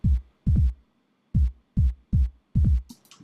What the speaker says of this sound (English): there's a sort of distorted 808 sound.